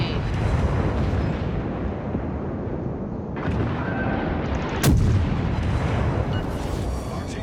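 Naval guns fire in the World of Warships game, a sudden heavy boom around the midpoint over a steady background rumble of engine and sea, followed by a quieter crackle.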